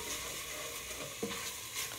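Paprika paste fries and sizzles in a pan for minestrone soup, with a steady close hiss and a faint scrape or two of stirring, no voices.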